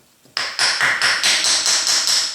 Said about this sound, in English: if I tap on this bearing housing, it's moving